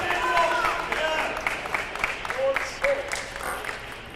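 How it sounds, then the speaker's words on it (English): Spectators cheering and clapping at a college nationals coed team quarterfinal match, a continuous crowd roar of applause with a commentator talking over it throughout. "They're trading off cheering,"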